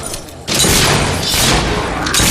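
Gunfire in the video game Fable 3, a sudden loud burst of booming, thudding shots that kicks in after a brief quieter moment and stays dense and sustained to the end.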